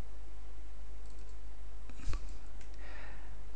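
A single crisp computer mouse click, close and dry, stands alone against a low steady background hum while WordPress plugin settings are changed.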